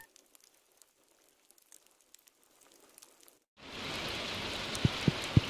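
Rain in the video game Stardew Valley starts after a near-silent stretch and becomes a steady, dense downpour hiss, with a few soft plinks near the end.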